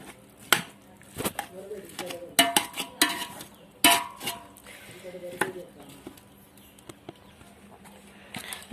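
A knife chops food on a board in a home kitchen during preparation of a raw jackfruit sukka. Sharp, irregular close-up knocks come in short bursts with pauses, and a person talks between them.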